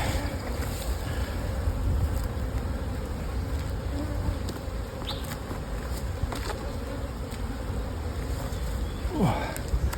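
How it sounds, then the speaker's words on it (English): Honey bees swarm and buzz around an open hive during a single brood chamber inspection, a dense, steady droning hum that fills the whole stretch close to the listener, with a few louder passes of individual bees. "Bees occupying right across."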